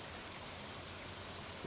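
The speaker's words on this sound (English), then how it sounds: "These noises are always very weird. But I guess that's just a side effect of it being raining." Steady rain falling in the Stardew Valley video game, a dense, even hiss of drops with a soft low patter underneath, continuous and moderately quiet.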